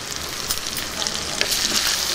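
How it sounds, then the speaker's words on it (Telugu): Hot spiced oil tempering is stirred into mashed lentils in a pan, giving a loud, steady close sizzle with crackles and soft stirring scrapes, no talk. "పోపు మొత్తం ముద్దపప్పుకి కలిసేలాగా కలుపుకుందాం."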